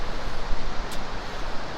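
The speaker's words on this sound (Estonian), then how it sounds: "Aga täna on üsna kõva tuul siin mere ääres." Strong wind roars across a microphone at the seashore, mixing with the wash of sea waves into a dense, steady, loud rumble with no talking.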